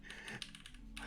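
Quick bursts of typing on a NuPhy Halo65 mechanical keyboard fitted with Baby Kangaroo switches, several crisp, close clacks in a short run, soft and alone.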